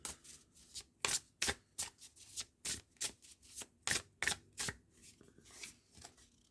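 A Heavenly Bodies astrology card deck is shuffled and drawn, making a quick series of crisp riffling flutters and slaps, close and fairly quiet, with brief pauses between bursts.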